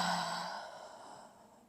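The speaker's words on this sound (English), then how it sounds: "And exhaling out the mouth." A slow breath exhaled through the mouth during a yoga session, soft and close, fading out over under two seconds.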